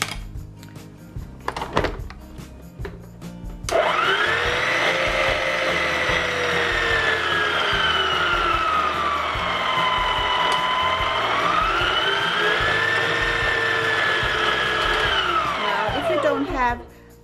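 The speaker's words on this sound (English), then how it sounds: "I'm going to let the mixer mix it up." An electric stand mixer whirs loudly and steadily, its motor pitch rising and falling as it cuts butter into Danish twice-baked biscuit dough, after a few clunks at the start.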